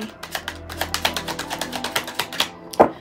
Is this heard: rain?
no